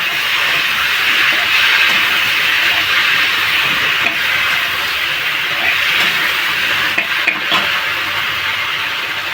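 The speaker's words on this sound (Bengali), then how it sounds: "এইবার জিরে বাটাটা দিয়ে কষাবো।" Hand-ground cumin paste sautés in a hot pan with a loud, steady, close sizzling hiss that runs unbroken throughout.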